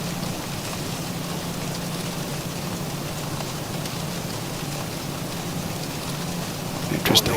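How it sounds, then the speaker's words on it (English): Steady rain patters in the X-Plane 12 flight simulator around a Boeing 737 cockpit, a continuous even hiss of drops filling the whole stretch, with a brief louder burst right at the end. "I think we got a few drops of rain out there."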